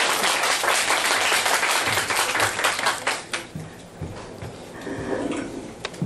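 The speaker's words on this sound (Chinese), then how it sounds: "那我们以最热烈的掌声欢迎我们邱韵如教授" Audience applause welcoming Professor Qiu Yunru to the stage at a public science lecture about Galileo and a scientific journey through Italy: dense, sustained clapping from a full room that thins out and tapers off toward the end.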